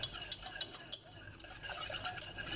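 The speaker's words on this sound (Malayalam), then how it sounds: "ഇതിന് കട്ട കൂടാതെ നന്നായി ഇളക്കി കൊടുക്കുക" A thick kunafa filling is stirred steadily in a pan with a metal utensil, making continuous close scraping and light clinking against the pan.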